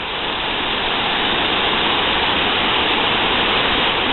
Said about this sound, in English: This is, I guess you'd call it a man-made waterfall, but it becomes more natural as you go down.